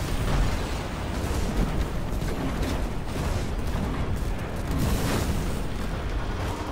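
Scorch cannon blasts in Destiny 2, a continuous roaring barrage of explosions and rumbling bursts, loud and dense throughout with no clear gaps.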